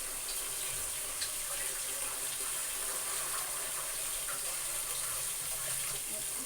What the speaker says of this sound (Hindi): मटर को धो लीजिए।